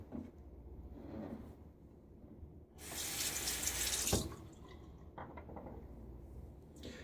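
Water gushes from a tap for about a second and a half amid quiet kitchen clatter, then shuts off, leaving soft handling noises, while shaving lather is prepared.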